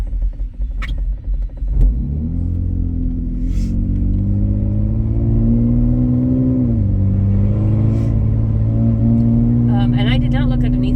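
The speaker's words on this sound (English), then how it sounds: "There's our exhaust noise." A 2017 Chevy Traverse engine rumbles steadily with a low exhaust drone, pitch shifting slightly as it revs while driving; a voice speaks briefly at the start.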